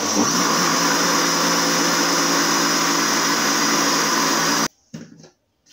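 A blender whirs steadily, mixing potatoes with milk and flour. The motor hum is loud and constant for over four seconds before it stops sharply, followed by a couple of brief knocks.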